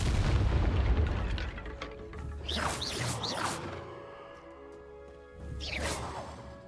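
An Incendio fire spell cast in Hogwarts Legacy, a deep booming burst followed by whooshing, crackling flame swells that rise and fade twice, loud and close with no talk over it.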